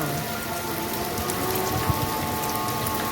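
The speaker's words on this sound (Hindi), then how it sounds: "बाकी बारिश के नज़ारे लें जी आप, फुल तेज है, फुल तेज फुल तेज।" Steady, heavy rainfall in Sialkot, Pakistan, drums down in a thick, unbroken wash of noise, close and loud, with no voices.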